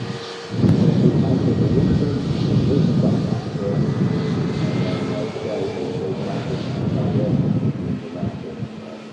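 A Ryanair airliner touches down on the runway at Manchester Airport, a steady close engine roar holding for several seconds under a talking voice.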